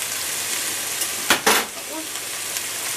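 Chickpeas and meat frying in a pan with a steady, even sizzle throughout, broken by a couple of brief scraping stirs midway, close and fairly loud.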